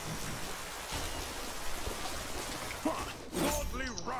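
Rain effect from the Rain Dance ability in the video game Smite, a dense hiss of pouring rain with splashy impacts, followed by sharp bursts and warbling tones near the end.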